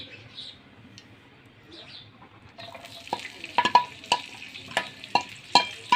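Onions hit hot oil in a frying pan, starting a soft steady sizzle, then a utensil taps and scrapes repeatedly against the pan in quick, irregular clicks close by.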